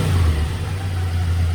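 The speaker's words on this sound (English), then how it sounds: "we need to hit the gas so then the rev goes down" An older car's engine revs under the throttle, a loud, close, rough mechanical roar that holds steady through the moment before cutting off abruptly.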